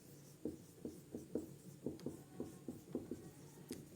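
Marker or chalk taps and strokes on a board during a physics lecture, about a dozen short rhythmic scratches, close and fairly quiet with no talking.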